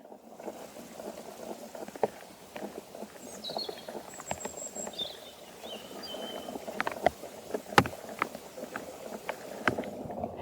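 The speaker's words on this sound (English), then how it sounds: "Here's the sound of the soil on organic grassland." Underground soil in organic grassland crackles with faint scattered clicks and scratchy patter, soft and close, with a few brief chirp-like tones from birds in the background.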